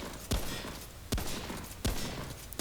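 A hunter's rifle in the video game Remnant from the Ashes fires three sharp, evenly spaced shots over a low background of game ambience, each crack loud and close.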